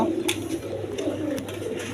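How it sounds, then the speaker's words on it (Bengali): A pair of Maltese pigeons murmur in low, steady coos, with a few sharp clicks or taps scattered through, close and fairly quiet, with no voices. "এখানে এক পেয়ার মাল্টেস কবুতর আছে দেখেন"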